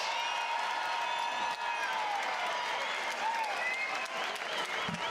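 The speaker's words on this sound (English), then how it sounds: "let's have a round of applause for these two middleweight warriors" Crowd at a bare-knuckle fighting event applauds and cheers for two middleweight fighters after a five-round bout, sustained clapping and whoops filling the arena throughout.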